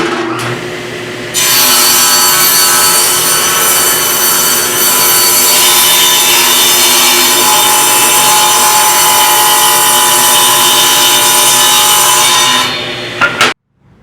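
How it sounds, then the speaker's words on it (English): Power saw ripping a board to a 2-inch width during a mid-century bedroom set restoration, one steady loud cutting whine lasting about twelve seconds with a brief start and stop, no talk. "Next we cut it to width,"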